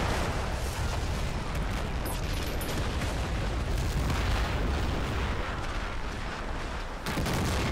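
Dense, continuous rumbling barrage of mortar booms and blasts in the video game Men of War: Assault Squad 2, a battle at the gates of Warsaw, loud and unbroken.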